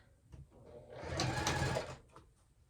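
A sewing machine runs a short burst of stitching along the seam of a fabric clutch wristlet, a close whirring run of about one second that rises and falls, with a few faint clicks before and after.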